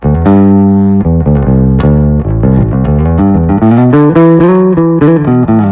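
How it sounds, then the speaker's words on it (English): An electric bass plays a melodic line through a light Eventide Spring reverb plugin, notes ringing with a soft metallic tail; no voices. "Love Spring reverb on bass."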